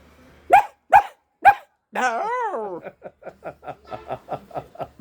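A person imitates a dog: three sharp barks, then a rising whine and a string of quick, panting yelps, all up close.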